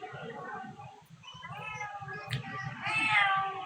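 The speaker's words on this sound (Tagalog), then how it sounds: "Grabe pusa." A cat meows in a drawn-out, wavering cry that rises toward the end, heard over a person's talking during a TikTok live stream.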